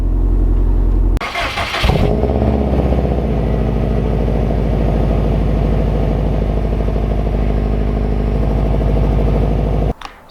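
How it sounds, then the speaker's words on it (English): A 2013 Subaru WRX STI engine cold-starts with a brief cranking burst, then settles into a loud, steady, rumbling high idle close by that runs unbroken until it cuts off at the end. "let's get right into today's video with a little cold start of the STI"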